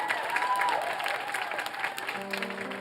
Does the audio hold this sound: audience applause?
yes